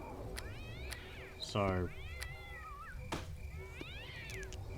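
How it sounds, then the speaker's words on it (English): A cat in the Neverwinter Nights game meows loudly a few times with a drawn-out wail in the middle, heard up close over a quiet game backdrop while a person speaks briefly. "Damn cat."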